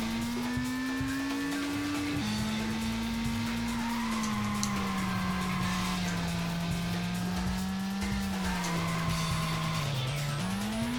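A race car's engine drones in the video game Racing Lagoon, holding a steady pitch that shifts with gear changes and speed, with faint tire squeal on top and no talking.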